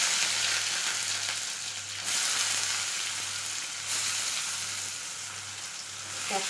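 Onion and capsicum fry in a pan with a steady, close hiss of sizzling oil, brief stirring pauses breaking it now and then, with no talking.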